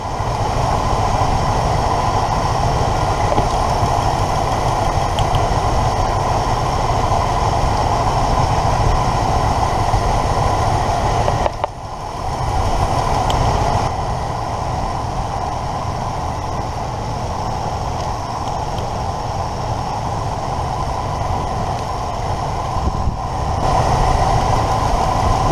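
The engine of a 1977 Ford Thunderbird idles steadily and close during spark plug misfire testing. A continuous rumbling drone is broken by two brief dips where the idle falls and then recovers.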